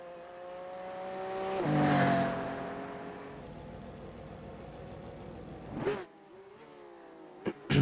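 Porsche Cup race cars on a circuit, engines droning and swelling as cars approach, with a pass-by whoosh partway through and a gear-shift rise near the end.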